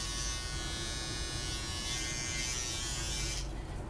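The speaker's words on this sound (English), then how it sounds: "is he going to shave the sides first?" An electric shaver buzzes continuously close by while a beard is trimmed down to a mustache, a steady mechanical drone that shifts slightly in tone near the end, with no talking.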